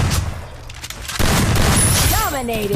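Gunshots from the Free Fire battle royale game ring out in a dense burst of booming fire, loud and close, with a voice speaking over the shots and rising whistling in-game effects near the end.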